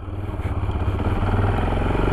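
Yamaha XT 660 single-cylinder motorcycle, an old reconstructed bike, running with a steady low-pitched engine rumble and light mechanical clatter, close and continuous with no talk.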